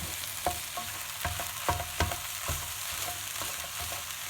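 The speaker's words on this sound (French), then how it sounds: "Et là, on peut mélanger le tout." Cantonese fried rice being stirred and tossed in a pan, steady frying sizzle with repeated scraping strokes of a utensil at an irregular rhythm, close and moderately loud.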